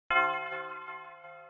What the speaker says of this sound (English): I just added the church bell too.